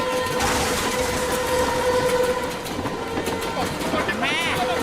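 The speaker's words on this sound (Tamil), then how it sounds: "ட்ரெயின் நம்ம பக்கத்துல வந்துருச்சு" A cartoon train rumbles loudly close by with a steady rattling roar, and a high metallic squeal rises near the end.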